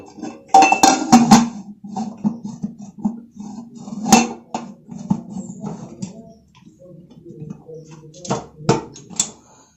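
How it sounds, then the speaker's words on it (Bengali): Metal clinks and clatters as a pressure cooker lid, with its gasket and whistle removed, is fitted over a bowl set on a stand inside the cooker. The clinks come close in irregular bursts and pauses, with faint murmuring under them. "কুকারের ঢাকনির গার্ডার এবং সিটির অংশটা খুলে দিয়ে আমি এটাকে লাগিয়ে দেব"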